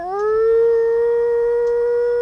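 A person howls in imitation of wolves in Algonquin, giving one long, loud, steady tone that rises briefly and then holds level for about two seconds, with no other voices.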